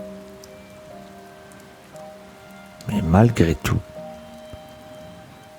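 Steady rain patters on a surface throughout, a soft continuous hiss with a brief burst of speech in the middle.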